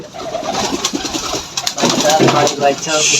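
A golla pigeon coos in a pigeon house among other birds, repeated throaty calls close by, with someone talking over them.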